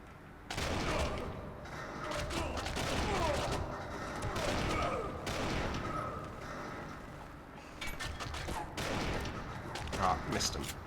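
Machine gun fire crackles in repeated loud bursts during a Kane & Lynch 2: Dog Days video game firefight, with intermittent heavy volleys. Someone talks over the shooting.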